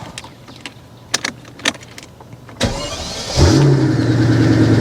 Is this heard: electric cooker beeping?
no